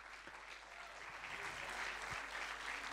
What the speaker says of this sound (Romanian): Pentru că vreau să cronometrez cât aplaudăm.